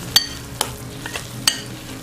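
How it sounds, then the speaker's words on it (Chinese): Salted egg yolk sauce fresh from the microwave, stirred as it sizzles: faint frying crackle with a few sharp scraping and clinking strokes spaced through it. "拿出来以后会听到咸蛋黄有油炸的声音，我们搅拌到油炸的声音消失"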